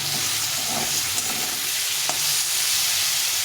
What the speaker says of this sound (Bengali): মশলাটা সুন্দরভাবে কষে গেছে তেল ছেড়ে দিয়েছে